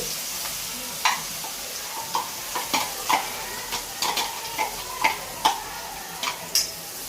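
Crushed green garlic, spring onion and dried garlic sautéing in a pan for spinach khichdi, with a steady soft sizzle broken by sharp, irregular clicks of a spoon stirring against the pan, up close and with no talking.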